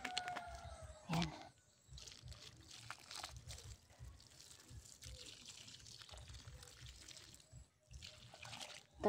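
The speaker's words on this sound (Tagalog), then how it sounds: "Tapos diligan ko siya ng tubig" Water poured from a container onto the dry soil of a young coconut plant, a soft, faint trickling and splashing that runs on and off, with light background noise.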